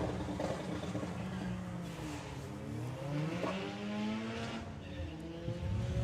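Volkswagen drag race cars running side by side down the strip at Santa Pod, a sustained roar of engines with shifting pitch from fairly distant cars, steady throughout without talk.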